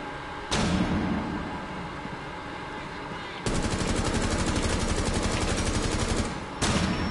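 Rapid automatic gunfire in Rainbow Six Siege, a long sustained burst of dense repeated shots in the middle after an earlier blast, loud and close, with brief bursts at the start and end.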